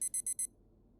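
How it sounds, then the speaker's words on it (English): A video game alarm clock in Doki Doki World of Dreams beeping in quick bursts of four even, shrill pulses, a short pause, then the pattern starting again, clear and close. "Honestly, I've heard more annoying alarm sounds."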